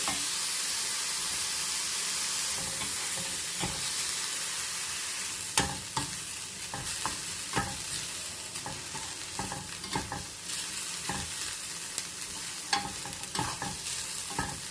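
Chopped onions frying in hot oil in a pan, a steady crackling sizzle with occasional sharp clinks and scrapes of a spoon stirring, close and without speech.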